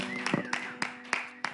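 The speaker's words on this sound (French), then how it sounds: "Applaudissez pour moi" A studio audience on a French television set claps five sharp, evenly spaced beats, one about every third of a second, with a voice and a steady hum beneath.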